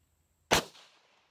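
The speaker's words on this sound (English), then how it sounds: "Next up, 40 cal out of this Glock 22." A single sharp gunshot from a Glock 22 pistol firing a .40 caliber round, loud and close, cracking suddenly out of near silence and then decaying in a short ringing tail.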